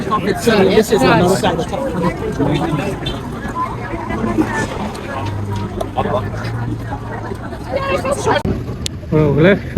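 A busy crowd by the Thames riverside in London keeps up a dense babble of chatter and voices, with a low boat engine hum and wind buffeting the microphone, while someone speaks close by.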